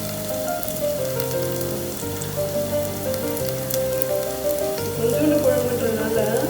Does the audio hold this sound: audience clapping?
no